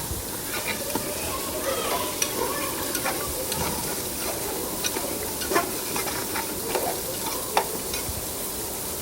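Khichuri sautéing in a pan as it is cooked down, with a steady close sizzle broken by irregular spoon scrapes and clinks across the whole stretch.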